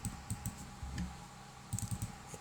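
Typing on a computer keyboard: sparse, quiet keystroke clicks come in small clusters, with a brief pause in the middle and a final quick burst, over a low hum.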